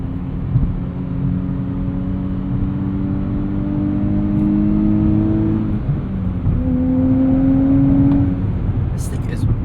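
2025 Nissan Z twin-turbo V6 with a six-speed manual pulling hard, heard from inside as a loud, steady engine drone that dips briefly mid-run before climbing again.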